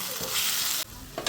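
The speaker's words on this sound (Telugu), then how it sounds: "బాగా ఫ్రై అయిపోయింది టొమాటోస్, ఆనియన్స్ అంతా." Tomatoes and onions fry in a pan with stirring scrapes over a steady sizzle, close and fairly loud, breaking off abruptly near the end of a brief stretch.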